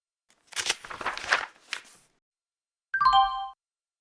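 A classroom bell gives one short, bright ding that rings for about half a second, following a stretch of shuffling, footstep-like noise and a pause of quiet.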